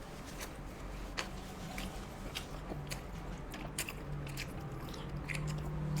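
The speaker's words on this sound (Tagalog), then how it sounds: "Medyo malaki na kagat ko, ha." Someone bites into and chews a large mouthful of medium rare steak, close to the mic, with soft wet chewing and scattered crisp crunches in an uneven rhythm throughout, no talking.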